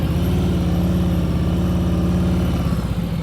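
A motorcycle engine idles and pulls gently during a slow turn, with the clutch worked in the friction zone and no rear brake; a steady, loud, close throb with slight fluctuations in pitch, no talk.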